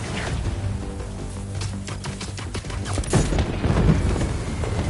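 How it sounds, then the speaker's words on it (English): Fireworks going off in Spider-Man 2, a dense run of crackling pops and bursts building toward louder booms near the end over steady game ambience. "fireworks are lit, to the river they go"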